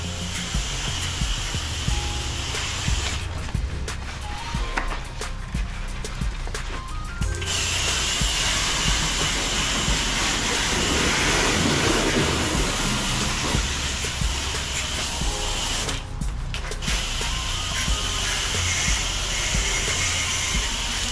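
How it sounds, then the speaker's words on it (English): Water spraying down the beams and screens inside a pool cage in St. Pete, Florida: a constant, loud hissing rush of water jet that runs without pause, with brief shifts in tone as the spray moves, no talking. "We're spraying down the inside now. See all the beams."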